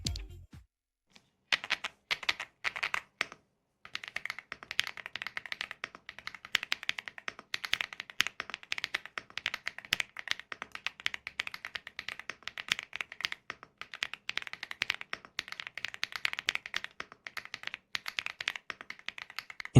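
Fast typing on a compact 75-percent mechanical keyboard with 3.6 mm Shuesheng switches gives dense, crisp, close clicks that run steadily for almost the whole stretch after a brief pause near the start.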